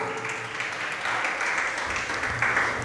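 An audience claps at a Jain religious sermon, a sustained wash of many hands applauding together that swells slightly toward the end, fairly close and steady without a break.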